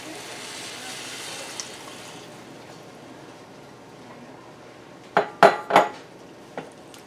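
A pan simmers quietly for several minutes while cooking a vegan tater tot casserole, then a metal utensil knocks and scrapes against it in a short burst of loud clanks and a final tap.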